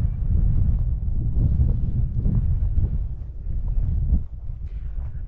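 Strong outdoor wind buffets the microphone at a radio-controlled plane flying field, a loud, low, continuous rumble that dips briefly near the end, with no speech.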